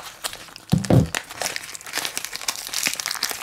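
Plastic packaging of a blind bag crinkles and tears as it is pulled open by hand, with a louder rip near the start followed by steady close-up rustling.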